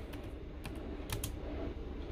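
A few soft, close computer keyboard keystrokes in small clusters over a quiet hiss, faint and intermittent.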